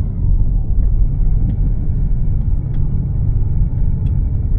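BMW car engine running to warm up, a loud, close, steady low rumble without pause.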